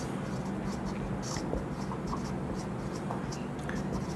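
Chalk or marker scratches across a board during a physics lecture, short strokes coming in quick bursts with pauses between them, close and fairly quiet, with no one talking.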